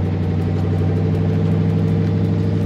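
A Roadster's engine hums at a steady low drone while the car is driven slowly around the block, with a constant close rumble and no speech.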